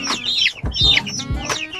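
Chickens cluck close by in a quick series of short, throaty calls, several overlapping bursts with no other sounds.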